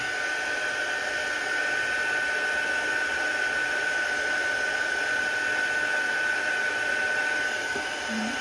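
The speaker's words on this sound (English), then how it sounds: "let's bring in the heat tool and let the magic happen" A heat tool warms a gel press card for stencilling, giving a steady, close blowing whir with a constant high whine that runs unbroken throughout, with no talk.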